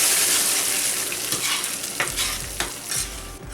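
A browned onion mixture for shrimp curry sizzles in a pan while a spoon stirs it, giving steady frying hiss broken by scraping strokes and soft knocks, close up and with no talking.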